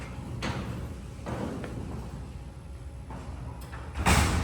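A lightweight freight elevator door is pulled shut on a tall Tejas traction elevator in the Winship Drama Building at UT Austin, with rumbling slides and soft knocks, then a louder, close closing thump at the end.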